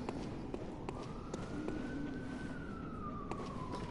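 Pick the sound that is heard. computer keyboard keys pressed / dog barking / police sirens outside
police sirens outside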